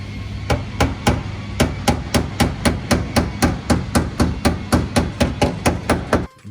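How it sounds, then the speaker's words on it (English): Sharp metallic hammer strikes on a steel fender edge, about seventeen evenly spaced blows in a steady rhythm, loud and close, with no voices. "using a hammer to line up the edge"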